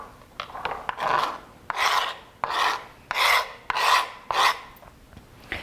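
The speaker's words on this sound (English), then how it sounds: "So I'm taking beautiful fresh mozzarella for this and just giving it, again, some kind of rustic slices." Knife cutting rustic slices through fresh mozzarella, a run of about seven soft, moist rasping strokes in a steady rhythm, close and fairly quiet, with no talking.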